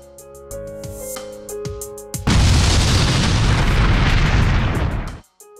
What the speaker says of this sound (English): Unfortunately, on YouTube, most of the explosions look like this.